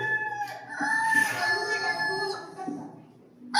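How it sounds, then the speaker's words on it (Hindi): A rooster crows in a long, wavering call close by, with a little clucking mixed in before it fades. "मुर्गा बोला हुआ सवेरा,"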